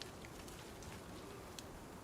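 Soft, steady rainfall in the survival video game Icarus patters with faint scattered drops, a quiet continuous hiss heard alone without talk.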